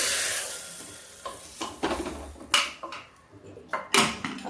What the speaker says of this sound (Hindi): अब हम इसमें लगा देते हैं एक तड़का।